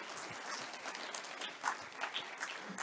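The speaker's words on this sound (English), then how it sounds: "Please give an applause for Ben." A conference audience at an OpenStreetMap opening session applauds a speaker, a moderate, steady wash of clapping from a modest crowd at a short distance, with a few sharper claps near the end.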